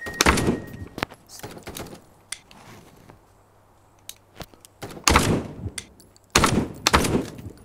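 Rifle gunfire in the VR shooter game Contractors, fired unsuppressed with a reflex sight: short bursts of sharp cracks separated by quiet pauses and a few single thuds, loud and close.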